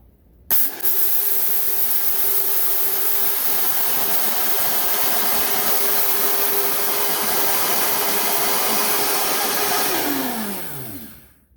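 A Vitamix blender on high churns nearly a full cup of flour, starting abruptly and roaring at a steady pitch for about ten seconds before winding down with a falling motor whine and stopping.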